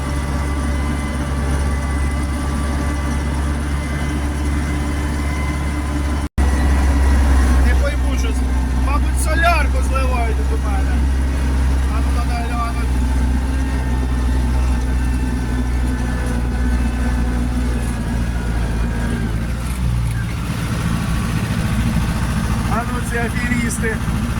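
Two YUMZ tractors, a YUMZ-8280 and a YUMZ-6, run in a field while cultivating ground for sunflower sowing, a steady low diesel drone filling the whole stretch with people talking over it.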